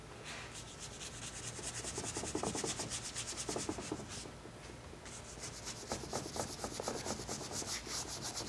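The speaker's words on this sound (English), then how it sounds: "You can see how it has come that I've splayed my brush, scrubbing like that." Stiff paintbrush scrubbing and smearing oil paint on canvas during figure painting, a steady close rasping rub in repeated back-and-forth strokes with brief pauses, no talking.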